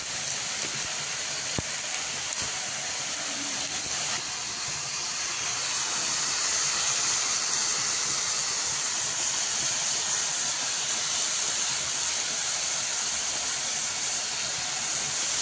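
Bottle gourd frying in a pan over onion and slit green chilli, with salt and turmeric added: a steady, loud broadband sizzle and hiss that runs for the whole stretch and swells slightly midway, with no talking.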